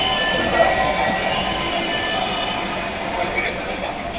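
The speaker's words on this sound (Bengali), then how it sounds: "মেট্রোতে উঠেছিলাম এবং ঢাকা ইউনিভার্সিটি স্টেশনে আমরা নামব।" Steady interior rumble of a Dhaka metro rail train in motion, a continuous low roar with faint squealing tones, heard close from inside the carriage with speech mixed in.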